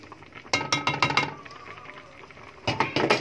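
A spoon stirs raisins and chopped hot peppers in a metal cooking pot while making kabsa. Two short clusters of close, bright clinks and scrapes are separated by a quieter pause.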